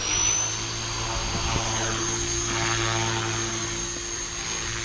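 A 300X RC helicopter flies in normal flight mode with rotor RPM at 65%, giving a steady, continuous rotor whine and buzz that holds at an even level throughout with no talking.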